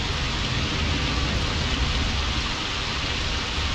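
Steady rain pours in the Project Zomboid game world, a dense, even hiss that holds at the same level throughout with no voices over it.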